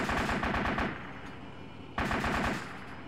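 Tank weapon firing on a training exercise: a rapid burst of loud close shots, a pause as it decays, then one more sharp blast with a trailing echo.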